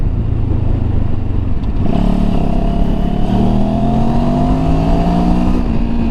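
A Benelli TRK 702X motorcycle engine idles lumpily, then revs up and accelerates hard, its pitch climbing steadily over several seconds, loud and close with wind noise around it.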